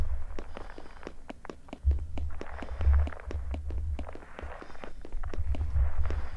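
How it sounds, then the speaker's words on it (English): Hazmat suit in the Backrooms video game gives a steady run of crisp rustling clicks like footsteps, repeating regularly over a low rumbling hum. "That sound you hear is the sound of our hazmat suit."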